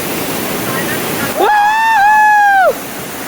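Rushing water roars steadily from a hidden waterfall site where two falls drop side by side, a loud broadband wash that a brief sustained voice or whistle-like tone cuts into midway.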